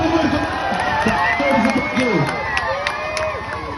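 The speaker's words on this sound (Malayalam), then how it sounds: "ഓക്കെ, കയ്യടിക്ക്" Spectators at an off-road mud drive cheering and shouting together, a dense noisy crowd roar with scattered claps and excited voices throughout.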